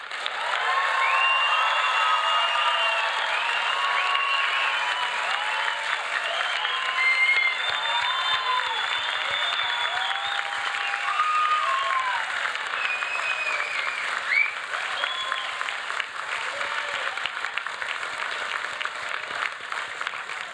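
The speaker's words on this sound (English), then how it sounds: "So let's give our new graduates a really rousing round of applause." A large graduation ceremony crowd gives new graduates a long, steady round of applause, with scattered cheers and whoops rising over the continuous clapping throughout.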